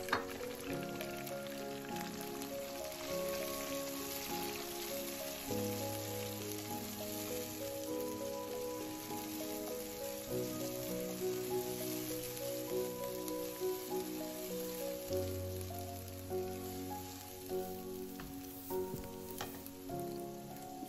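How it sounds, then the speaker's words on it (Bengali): Onion fries in a pan with a steady, even sizzle that runs throughout, accompanied by soft background music. "এখন আমি পেঁয়াজটা ভেজে নেব।"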